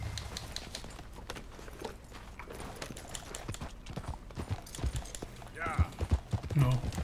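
Horse hooves clip-clop in Red Dead Redemption 2, faint and intermittent over the game's ambient sound. A few hoof hits grow more distinct toward the end, and someone talks over them.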